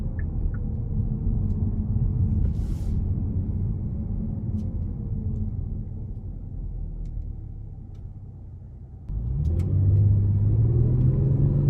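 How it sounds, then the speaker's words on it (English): Steady low engine rumble from a 2021 Kia Stinger GT with 3.3 twin-turbo V6 and all-wheel drive, driven in sport mode on the road, heard from inside; the drone dips, then surges louder and rises in pitch as it accelerates. "And these turbos really do work. When they kick in, it throws you right back in the seat."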